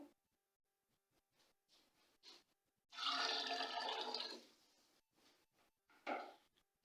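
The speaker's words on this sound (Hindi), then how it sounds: "इसमें थोड़ा सा पानी और डालती हूँ" Water poured from a vessel into chicken corn soup stock in a home kitchen, a loud splashing pour lasting about a second, set between softer clinks and kitchen handling noises, near and without speech.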